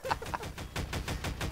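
Rapid, evenly spaced gunshots crack out in a video game, a quick rhythmic burst heard fairly faint and somewhat distant.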